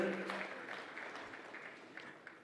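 An audience at a large foundation conference claps in a dense, steady round of applause that fades gradually, with a few sharper claps standing out near the end.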